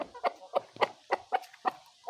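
A black chick hatched on 21 March chirps in about seven short, evenly spaced peeps, close and fairly clear, with no voices.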